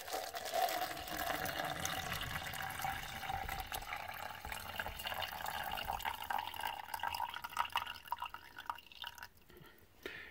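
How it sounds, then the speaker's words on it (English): Steeped biker-style coffee, brewed with loose grounds, poured into a cup: a steady close liquid stream with dripping and filling sounds for about ten seconds, trailing off near the end, with no talk. "we're going to take it, pour it in a cup"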